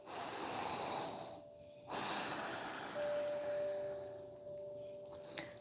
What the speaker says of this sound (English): Take deep breaths.